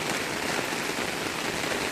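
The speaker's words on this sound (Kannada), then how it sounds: "ಅತಿ ಭಯಂಕರವಾದ ಮಳೆ." Dense, steady downpour of heavy rain near a village in Tumakuru district, Karnataka, a continuous loud hiss with no breaks and no voices.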